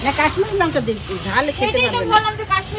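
Potatoes frying in oil give a steady hiss beneath a person talking close by.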